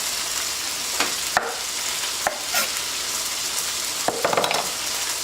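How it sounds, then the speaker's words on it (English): Fresh garlic, onions and green peppers sizzle steadily in a pan, with occasional sharp scrapes and taps of a utensil stirring against the pan, no voices. "You can take fresh garlic, onions, and green peppers and cook it together."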